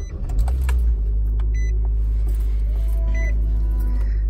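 A Nissan Versa's engine cranks and catches, then settles into a steady low idle hum, close and loud, with small electronic chimes from the dashboard sounding over it.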